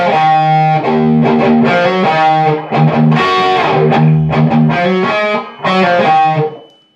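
A heavily distorted electric guitar plays a repeating lick, loud and close, with thick sustained notes, brief gaps between phrases, and a chorus-like shimmer.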